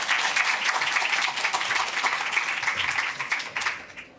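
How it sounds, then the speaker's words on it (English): An audience at a Pecha Kucha event claps in dense, sustained applause for several seconds, tapering off toward the end. "it's time to applaud Tabea, who's been all the coordination."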